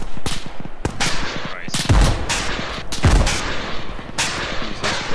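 Video game gunfire comes as repeated loud, sharp shots and bursts, some close and heavy, with faint voices underneath.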